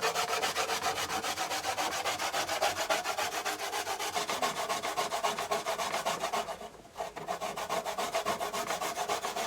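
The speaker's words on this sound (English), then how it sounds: "I'm going to grate my coconut now." Coconut is grated by hand, giving a continuous rapid rhythmic scraping and rasping with regular strokes and one brief pause, close and moderately loud.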